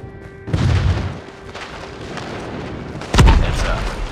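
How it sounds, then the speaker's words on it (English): Airstrike explosions in the mobile shooter Call of Duty Mobile come as loud, deep booms, one near the start and another heavier blast later, over a rumbling battle background. "Friendly airstrike incoming."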